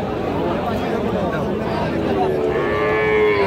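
Sahiwal cattle at a busy livestock market moo in a long, drawn-out call over a steady hubbub of crowd noise and nearby voices.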